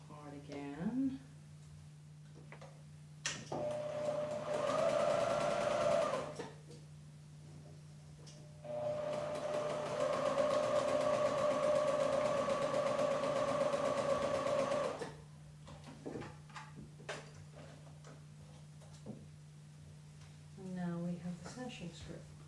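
A domestic sewing machine joins the final seam of a small quilt in two bursts of steady whirring, a short run and then a longer one, separated and followed by someone talking over a constant low hum.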